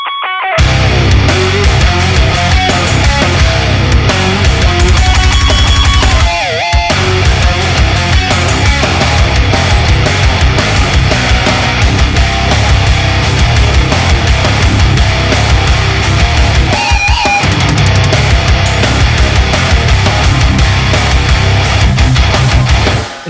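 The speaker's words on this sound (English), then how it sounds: "Let's use this guitar in drop C using the Fortin Nameless Suite." Fender American Stratocaster tuned to drop C through a Fortin Nameless Suite amp, playing a dense, loud metal jam with a full band mix, sustained distorted riffing and two brief breaks.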